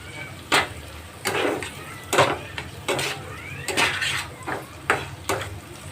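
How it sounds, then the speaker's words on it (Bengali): Spices and green chillies fry in a pan for a fish oil-jhal curry. A utensil stirs and scrapes against the metal in a string of sharp clinks and clatters over a faint sizzle. "এবার মশলাটা ভাজা হয়ে গেছে, হালকা করে কিন্তু এখানে ভেজেছি"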